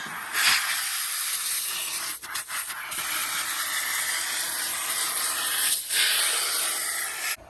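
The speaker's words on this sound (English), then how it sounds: "See how easy it is to vacuum this floor?" A vacuum cleaner runs on a truck's floor during interior detailing, giving a continuous loud hissing suction with brief dips and scraping rubs as the nozzle moves; no talk.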